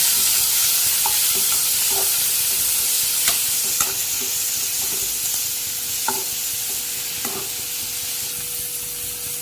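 Chopped onion and tomato sauté in a pan for a mutton dish, a close, steady sizzle broken by several distinct metal-on-pan scrapes and taps from stirring at irregular intervals.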